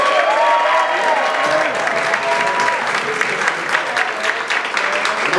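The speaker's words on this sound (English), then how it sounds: "Let me get a special round of applause for the models who's walking the stage right now" Strong, sustained audience applause with some cheering for models walking the stage at a fashion show, loud and continuous, with faint voices beneath.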